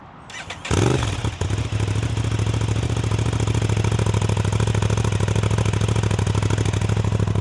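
An Aprilia RS660 motorcycle with a Powertech exhaust and dB killer fitted starts with a sharp burst, then settles into a steady, loud, close idle with an even, throbbing exhaust pulse.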